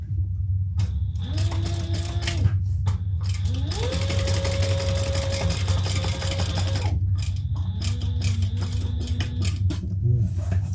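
A sewing machine top stitching a seat cushion cover for outdoor use, running in long steady bursts with a rising and falling motor whine over a constant rapid needle chatter, close and loud, with brief pauses between runs.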